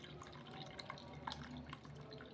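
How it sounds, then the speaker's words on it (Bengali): Malta lemon juice dripping through a strainer, a quiet, steady patter of small drops with faint splashes against a soft background hum. "গাইস দেখুন এখন শরবত কিভাবে পড়ছে"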